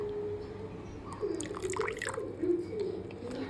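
A spoonful of rose water trickles into a homemade dark-circle remedy mixture, giving soft, faint dripping and splashing in a few brief bursts against a quiet background.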